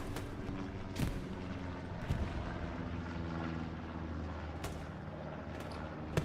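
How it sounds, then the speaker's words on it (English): Gunfire in the video game Hell Let Loose, with several sharp distant shots and booms spaced irregularly over a constant low rumbling battle backdrop. "I hear more shooting"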